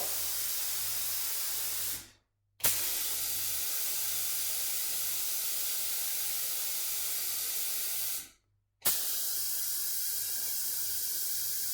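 A paint sprayer hisses steadily as it applies Dixie Belle mineral chalk paint to furniture, loud and close, with two brief pauses where the trigger is released before spraying resumes.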